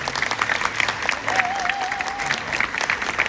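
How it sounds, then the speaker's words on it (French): Audience applause at a live Q&A event with costume designer Jany Temime, a dense, steady wash of many hands clapping throughout, with a brief whistled tone rising above it midway. "J'aimerais que vous applaudissiez très fort"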